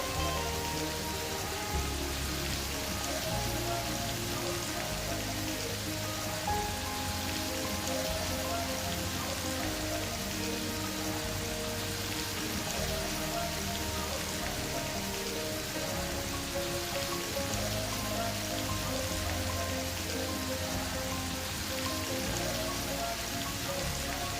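Chopped garlic goes into boiled beef sizzling in a pan for a beef and mushroom stir fry. A steady, even crackling sizzle continues throughout with no voices.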